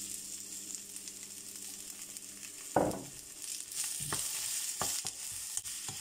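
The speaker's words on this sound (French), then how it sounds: "je vais faire sauter un peu les choux chinois. Juste comme ça dans le wok." Chinese cabbage is tossed in a hot wok with a splash of soy sauce. It starts with a quiet low hiss, then a sudden sharp sizzle burst as it hits the pan, followed by lighter scraping stir sounds.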